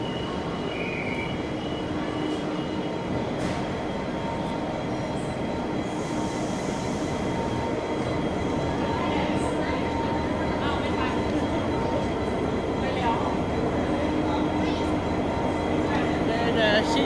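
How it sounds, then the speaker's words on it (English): A train stands or moves at platform 4 of Strathfield station, with a steady rumble, wheel squeal and rail noise filling the platform throughout and no gaps. "So we have a train on platform number 4"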